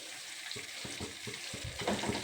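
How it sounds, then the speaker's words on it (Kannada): Cashews and green chillies frying in oil, a close crackling sizzle broken by several quick stirring scrapes in a row, fairly quiet with no voices. "ಚೆನ್ನಾಗಿ ಸ್ವಲ್ಪ ಕಲರ್ ಬರಬೇಕು, ಹಾಗಾಗಿ ಎಣ್ಣೆಯಲ್ಲಿ ಚೆನ್ನಾಗಿ ಫ್ರೈ ಆಗಲಿ."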